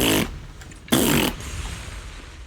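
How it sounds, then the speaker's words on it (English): Two raspy, buzzing fart sounds from the Zenless Zone Zero game, one short burst then a longer one about a second later, fairly loud over a low background hum. "I'm making fart noises every time I do the thing"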